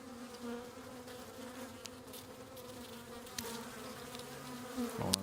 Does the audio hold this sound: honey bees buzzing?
yes